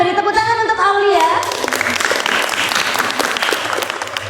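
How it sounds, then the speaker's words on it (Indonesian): In a school classroom, a teacher's voice speaks briefly, then a group of students claps for a classmate in a lively, sustained round of applause. "Beri tepuk tangan untuk Aulia."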